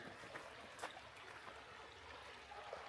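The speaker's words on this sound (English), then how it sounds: "We got the water flowing. Little mini waterfalls, and then it goes through here and down this way." Water flows over small cascades at a resort village in Arkansas, a quiet, steady trickling and babbling heard at a distance, faint and continuous with no voices.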